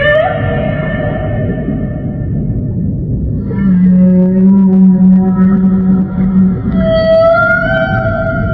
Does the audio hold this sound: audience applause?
no